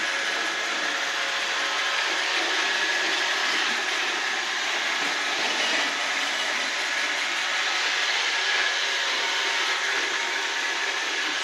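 An iRobot Roomba 770 robotic vacuum cleaner runs continuously, a loud steady broadband whirring and hissing drone with no breaks or changes.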